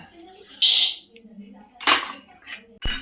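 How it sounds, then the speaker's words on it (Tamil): Toor dal lentils tossed and stirred dry in a pan, giving a few loud close scraping, clinking bursts separated by quieter rustling gaps. "இப்போ அடுத்து துவரம்பருப்பு வறுக்க போகிறேன்"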